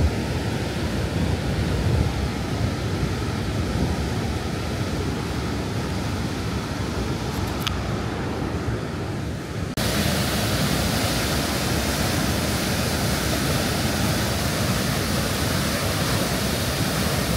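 Fast water rushing through a deep rock canyon outdoors, a steady, loud, broadband roar that continues unbroken throughout with no talking.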